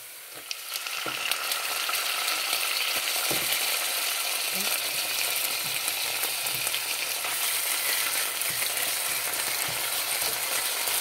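Chicken pieces hit hot oil and set off a loud, steady, close sizzle that crackles continuously, with a few clinks of a utensil.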